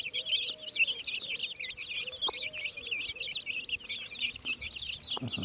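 Hen's chicks chirp and peep in quick, busy bursts throughout, close by, with faint background noise and occasional soft thumps.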